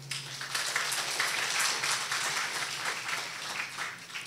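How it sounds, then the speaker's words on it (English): An audience at a university inaugural lecture gives a round of applause, a soft, dense wash of many hands clapping at a distance and holding steady for several seconds. "A round of applause, ladies and gentlemen."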